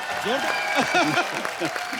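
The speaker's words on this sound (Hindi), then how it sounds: "तो अब मैं आप सबकी जोरदार तालियों के बीच यहां पे इनवाइट करना चाहूंगा शत्रु सर की धर्मपत्नी मिसेस पूनम सिन्हा जी।" An audience claps to welcome Poonam Sinha, wife of Shatrughan Sinha, onto a comedy show stage. The steady applause runs under a voice and tonal sounds throughout.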